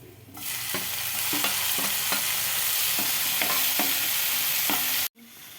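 Tomatoes stirred into browned onions frying in a pan, a loud, close sizzle punctuated by about seven regular scrapes of the spoon, then it suddenly cuts off near the end.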